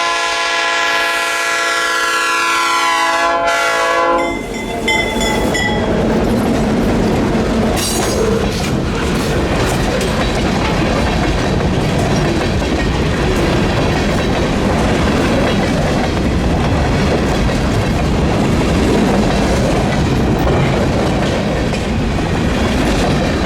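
A short train pulled by GP16 locomotives passes close by near Bennettsville, its horn blaring briefly before loud rumbling and clattering wheels dominate.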